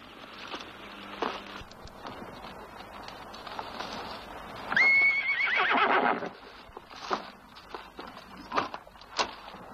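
A horse lets out a loud whinny amid scattered hoof clops and shuffling, with other soft thuds and movement nearby.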